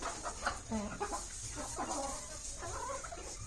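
Several chickens clucking and murmuring in short, overlapping calls against a steady background hum, moderately close.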